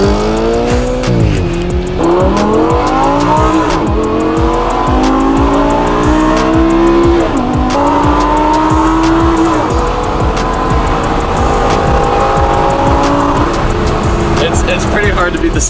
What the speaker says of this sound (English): it's pretty hard to beat the sound of a V10, dude.